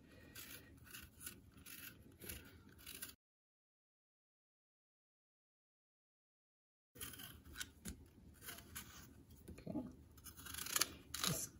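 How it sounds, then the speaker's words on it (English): Apples being peeled for a homemade apple pie, close scraping and rubbing strokes of a blade against the skin, in a steady scratchy run before and after a silent gap. "Okay, let's peel the apples."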